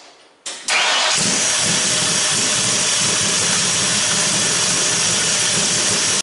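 An engine fitted with Accel Gen 7 EFI and an MSD spark module cranks briefly, catches and roars up, then settles into a loud, steady, hissing idle close by, with no talk.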